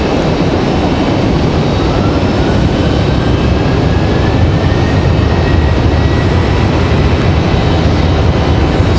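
A Copa airliner departs Raleigh Durham airport, its jet engines producing a loud, steady, broadband roar that holds evenly throughout with no speech.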